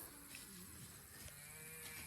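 Cattle grazing in lush silvopasture on a hot day give faint, distant low moos against a steady outdoor background.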